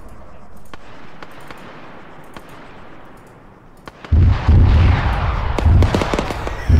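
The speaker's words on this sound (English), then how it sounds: "That's artillery." Artillery fire in the military shooter Arma 3, with distant scattered booms at first, then a heavy, loud barrage of rumbling explosions and sharp cracks close by, continuing without talk.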